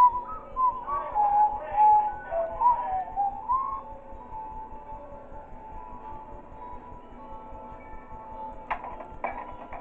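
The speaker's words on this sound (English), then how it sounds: "whistling is very intimidating in this game" Principal of the Thing in Baldi's Basics whistles a wavering melodic tune for a few seconds. A faint low game ambience and a soft clatter near the end follow.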